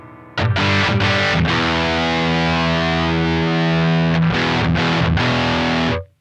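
Heavily distorted electric guitar through a Synergy Mesa Boogie Mark IIC+ clone with presence at minimum: a few short chugged chords, then a long sustained loud chord and more stabs, close and alone.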